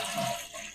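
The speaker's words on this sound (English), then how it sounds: "You can go ahead and do the flush." A household toilet flushes after its flapper has been replaced, giving a brief, steady rush of water, close and fairly quiet, with no talking over it.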